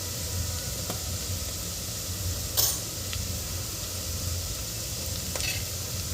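Spices, chilli and goda masala sizzle steadily in a pan for Maharashtrian masale bhat, giving a constant hiss broken by a few brief scraping stirs.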